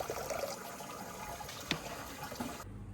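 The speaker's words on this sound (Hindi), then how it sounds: "पानी की बोतल भर लेते हैं।" Water runs steadily from a tap into a water bottle in a Swiss town, a continuous splashing, gurgling rush that stops abruptly near the end.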